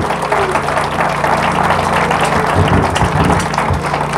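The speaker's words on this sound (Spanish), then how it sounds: "Denle un fuerte aplauso a Dios," A church congregation applauds steadily, a dense continuous wash of clapping filling the room for a few seconds.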